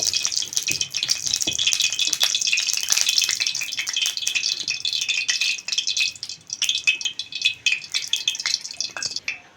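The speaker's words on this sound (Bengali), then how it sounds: "ওই একই কড়ার মধ্যে দিয়ে দিচ্ছি পরিমাণ মতো সর্ষের তেল।" Mustard oil poured into a hot wok, giving a steady crackling, rattling hiss that stays loud and close for several seconds, thinning into sparser pops toward the end, with no talking.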